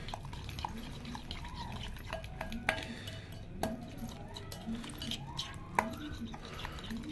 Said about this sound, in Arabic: ننزل بالبقدونس بتاعنا والبصل ونقلب كويس كده